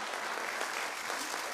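Audience applause at a Macedonian music talent show, a brief steady wash of clapping from a crowd, fairly faint.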